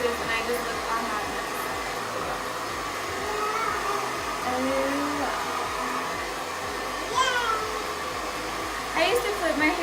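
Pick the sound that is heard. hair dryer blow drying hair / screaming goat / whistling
hair dryer blow drying hair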